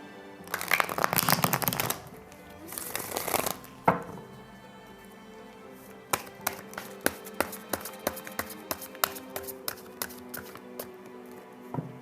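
Tarot cards shuffled and handled for a Cancer zodiac love reading: two bursts of riffling in the first four seconds, then a run of sharp, close taps and flicks as cards are laid down, with no talking.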